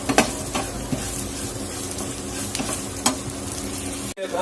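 A chilli vegetable with salt and asafoetida being stirred in a hot pan, continuous close sizzling with intermittent scraping strokes of a spoon, with no talk.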